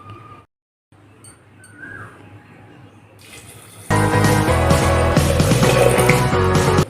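Water poured into a pressure cooker holding peas for a pea curry, a loud steady rush of liquid starting partway through and continuing to the end after quieter kitchen background.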